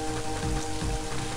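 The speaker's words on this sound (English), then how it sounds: "Brr, it's cold rain. I don't like it. It doesn't seem like it's going to ever stop." Heavy, cold rain falls steadily in the video game Mother 3, a dense continuous hiss with a low rumble and no voices.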